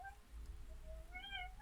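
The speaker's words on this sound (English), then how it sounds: "If you hear meowing, those are my cats." A pet cat meows several times in short tonal calls, a brief one early and a longer rising-and-falling meow near the end, over a low steady background hum.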